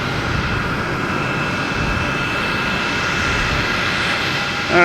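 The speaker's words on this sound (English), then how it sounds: "We have a JetBlue coming in from Nashville, an A320, flight 1306." JetBlue Airbus A320 arriving from Nashville on approach to Boston Logan Airport: a loud, steady jet engine roar with tonal whine, constant throughout and heard alone.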